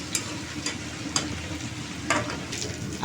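Vegetables fry in a hot pan with a constant crackling sizzle, punctuated by several irregular scraping stir strokes, close and fairly loud, with no voices.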